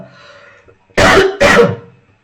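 Two loud, close coughs with a throat-clearing rasp from a person with a cold, sharp back-to-back bursts after a moment of quiet.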